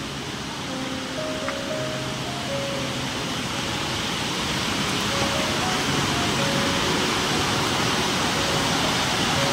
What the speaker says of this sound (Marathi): हा छोटा धबधबा,